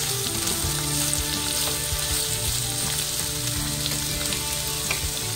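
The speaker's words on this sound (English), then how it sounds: "Just going to stir it up a little so that we can get the peppers nice and cooked" Peppers frying in melted coconut oil in a pan, a dense, continuous close sizzle with faint crackles throughout and occasional soft stirring movements underneath.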